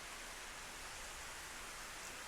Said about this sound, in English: Her voice was drowned out by the sound of the crashing raindrops.